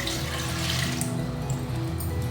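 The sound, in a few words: water being poured into soaked sago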